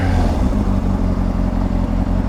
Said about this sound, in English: That's engine braking.